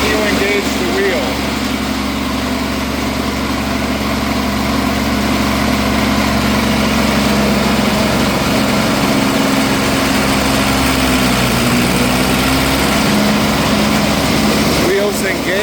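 A Crary Bearcat CH611DH 6-inch diesel wood chipper engine runs continuously up close at raised throttle, a loud, steady drone with an even low hum throughout.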